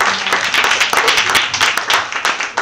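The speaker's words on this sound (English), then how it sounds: "Clap it up, clap it up, clap it" Dense, loud audience clapping fills the whole stretch, a steady wash of many hands at a youth empowerment show, with no voices rising above it.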